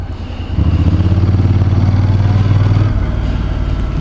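A Honda NC750X with DCT gearbox pulls along in first gear at low speed, its twin-cylinder engine giving a steady, close, throbbing drone that swells after a moment, holds evenly, then eases slightly near the end.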